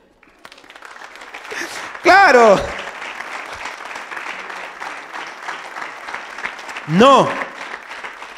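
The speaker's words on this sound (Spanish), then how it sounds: "Dale un aplauso a Dios" A church congregation bursts into applause in two short, loud rounds, separated by a stretch of a preacher speaking over a reverberant room.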